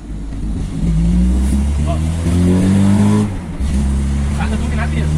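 A car fitted with a motorcycle carburetor accelerates hard through the gears in a city center, engine note climbing in loud revving bursts with a brief dip between shifts, while someone talks over it.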